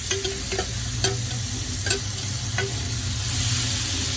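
Chopped tomato, onion and green chili sizzle steadily in a hot pan for an omelette, with a few sharp scrapes and clinks of a spoon stirring at irregular intervals over the continuous frying hiss.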